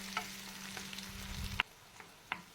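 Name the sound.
stirring tomato and bell pepper for menemen in a frying pan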